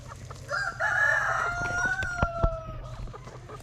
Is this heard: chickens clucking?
yes